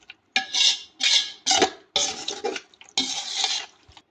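A pot of Hyderabadi biryani ingredients with fried onions is stirred in five or six separate scraping, clattering strokes, each about half a second long with brief pauses between, close and fairly loud, with no talking.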